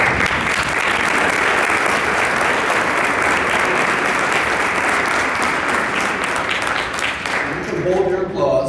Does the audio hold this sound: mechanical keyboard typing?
no